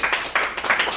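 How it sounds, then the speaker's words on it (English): Audience applause welcoming presenters at an evening talk, a dense wash of clapping rising in waves across the second, fairly loud and close. "So please give them a big round of applause and welcome tonight."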